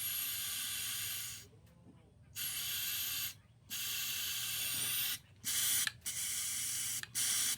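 Air blown through the fuel line of a zero turn lawn mower carburetor with the float bowls open, a loud steady hiss coming in several long bursts separated by short silent pauses, close to the microphone.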